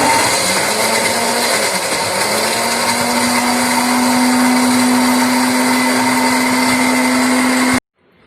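An electric grinder powders dried kachri, its steady loud motor whine running almost unbroken, with a brief dip in pitch early on, before it cuts off abruptly near the end.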